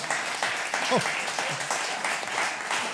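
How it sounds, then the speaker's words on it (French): Steady applause from an audience for contestants fills the room, moderately loud and continuous, with a voice briefly audible over the clapping. "On va encore applaudir nos brillants candidats, Paul et Valérie."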